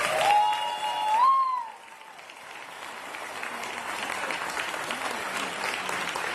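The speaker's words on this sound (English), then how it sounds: "So let's give all of the artists a big round of applause." An audience at the annual Mayor's Arts Awards ceremony applauds the artists, a sustained wash of clapping that starts over a brief tonal sound and then settles into steady, moderately distant applause.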